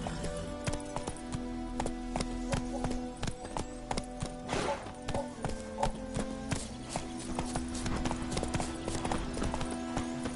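Roach the horse galloping in The Witcher III, with steady rhythmic hoofbeats clip-clopping close by over a tonal music bed for the whole stretch.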